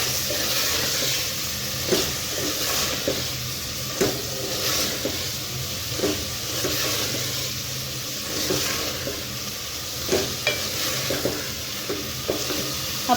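Salt, red chilli powder and turmeric being stirred into keema sizzling in a pan for aloo keema, steady frying hiss with repeated scraping stirs at irregular intervals, no talking.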